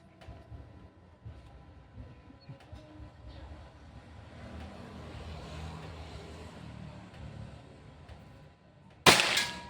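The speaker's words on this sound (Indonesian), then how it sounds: "Tembakan terakhir." A Pajero Gun Gen 6 air gun fires one sharp, loud crack at the very end of an accuracy test, after several seconds of low outdoor background rumble and faint activity.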